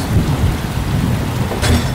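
Heavy rain pours down steadily on a cattle farm, a dense, loud hiss and patter with low rumbling beneath it, and a brief sharper splash near the end.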